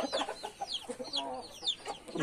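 Chickens, including a young red cockerel, cluck and chirp in a steady series of short calls close by in the late afternoon, with no one speaking.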